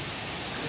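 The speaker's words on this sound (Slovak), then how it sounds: "voda kvápe" Steady rain with dripping water during a thunderstorm, a dense continuous hiss close by, with no voices.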